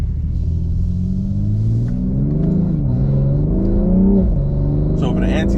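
A tuned BMW M340i with a B58 engine and ECUTek tune accelerates hard with its tires spinning, a loud continuous engine drone rising and falling in pitch as the revs climb, with talk over it.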